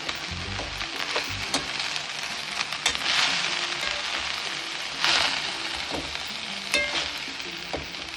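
Fresh fenugreek greens hiss and crackle in a small hot pan as they are stirred, with a continuous close sizzle broken by periodic scraping bursts and no voices.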